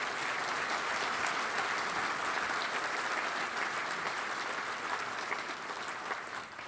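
Sustained, dense applause from a large room of attendees at a law enforcement awards ceremony, evenly loud throughout and easing off slightly at the end.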